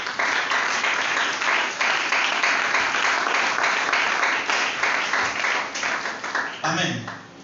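A church congregation applauding and cheering, dense sustained clapping mixed with shouts that fills the whole stretch and eases off at the very end.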